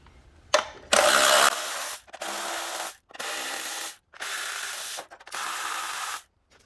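A ratchet spins off 10 mm valve cover bolts on a 2014-2021 Honda Accord 2.4L: a sharp click, then five rapid buzzing ratchet bursts separated by short pauses, close and clear.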